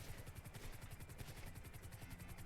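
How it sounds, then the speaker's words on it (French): Helicopters circling overhead while following someone: a faint, distant, steady rhythmic rotor chop pulsing evenly throughout. "il y a des hélicoptères qui les suivent"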